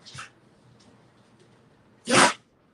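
A faint short breath, then after a pause one loud, sharp sneeze close by.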